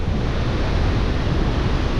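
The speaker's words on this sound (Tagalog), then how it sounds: "Bay, malakas yung hangin." Strong, cold wind during the rainy season blows steadily into the microphone as a dense, loud rumbling roar with no pauses and no voices.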